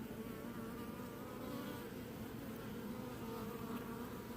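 A honeybee swarm being captured fills the air with a dense, continuous buzzing drone, steady and fairly close throughout.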